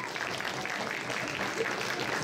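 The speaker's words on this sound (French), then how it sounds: "On peut l'applaudir encore une fois." Audience applause for a cosplay contestant at a convention contest, a steady wash of clapping heard from a distance, moderately faint and continuous through the short moment.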